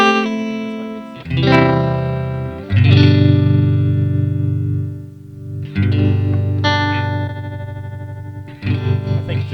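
Distorted electric guitar chords ring out and sustain through a tremolo effect, a wavering pulse in the volume as each chord decays; several strums across the passage.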